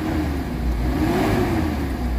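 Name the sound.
Mitsubishi Adventure engine revving after XADO treatment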